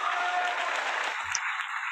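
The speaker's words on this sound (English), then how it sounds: "Giving you the biggest round of applause we can muster." An audience gives a round of applause at a 2022 showcase event, a brief, fairly quiet patter of clapping that carries on for about two seconds.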